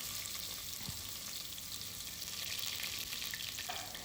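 Steady, dense sizzling of chopped onions frying in hot oil, with faint stirring scrapes; continuous and close, no voices.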